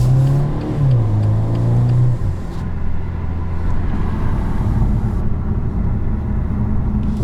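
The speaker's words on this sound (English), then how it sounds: "he will floor it around that truck" A BMW M8 Convertible's engine revs hard and roars as it accelerates around a truck, the pitch climbing and dropping with gear changes, loud and close.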